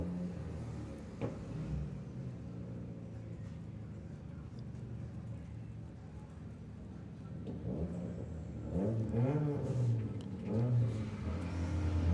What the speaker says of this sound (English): The Beetle just teasing him, lifting on and off the throttle.